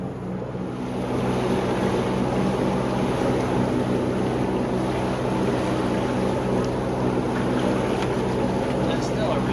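A boat motors through a cut toward Exuma Sound in the Bahamas, with a loud, steady engine drone and rushing wind and water throughout at an even level.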